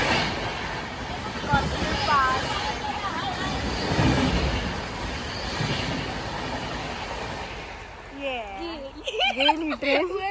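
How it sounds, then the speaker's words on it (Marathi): A train rolls past close to a tunnel, its rumbling rail noise building and fading over several seconds, with voices calling out near the end. "इथून ट्रेन जाणार."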